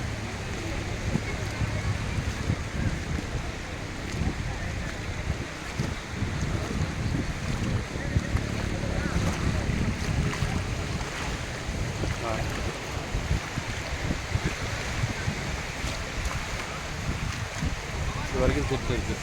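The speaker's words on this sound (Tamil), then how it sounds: "துவாரகா பீச்" Ocean waves wash continuously over sand at Dwarka beach in Gujarat, a constant roar mixed with gusting wind buffeting the microphone, with voices talking faintly underneath.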